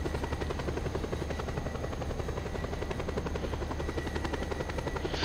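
A helicopter in Just Cause 2 flies close overhead, its rotor chopping in a fast, even beat over a steady turbine whine, loud and constant throughout.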